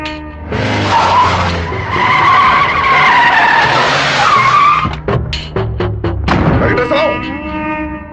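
Car tires skidding during a climax scene of the Telugu film Simha Putrudu, a long loud screech swelling over engine roar and dramatic music, followed by sharp impacts and a lingering tonal tail.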